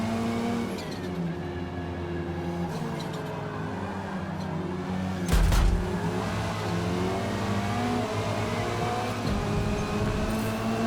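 Race car engines in the video game Forza Motorsport during an online wheel-driven race with close slipstreaming, a sustained whining drone with shifting revs, a brief louder burst midway, no talking.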